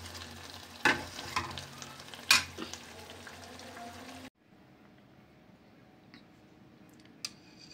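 Squid curry cooking in a pan gives a low, steady sizzle with a few sharp stirring clanks, then cuts to a much quieter stretch with faint ticks.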